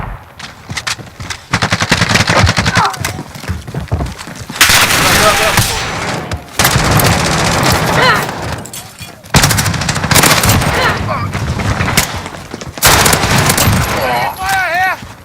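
Heavy gunfire in a first-person shooter, long loud bursts of automatic weapons and booming shots in waves, close and relentless, with players shouting and talking over the barrage.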